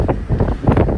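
Gusty wind rushes through an open car window on an evening drive home, a loud buffeting roar that rises and falls in quick pulses.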